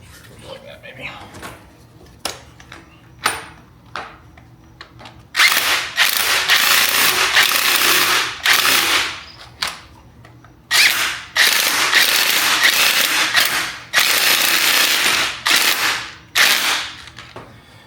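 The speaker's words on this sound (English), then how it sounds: "we're back to using the regular traditional spring compressor just because we have more room" A rented spring compressor is ratcheted tight on a BMW X5M coil spring, giving bursts of rapid, loud mechanical clicking with pauses between them, alongside scattered lighter taps and clanks.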